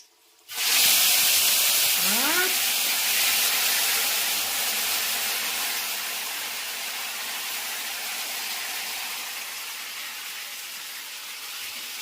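Spices tempering in hot oil for a stuffed brinjal curry, starting with a sudden loud sizzling burst that settles into a sustained hiss, slowly fading over several seconds.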